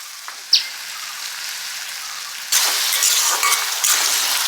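Potato pieces for an okra and potato chorchori fry in a pan. A faint clink is followed by a steady, loud sizzling hiss that swells midway and keeps crackling to the end.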